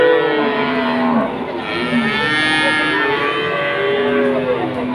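Cattle at the Wirosari cattle market in Grobogan, Central Java, lowing in long, loud drawn-out moos that overlap one another against a busy market background.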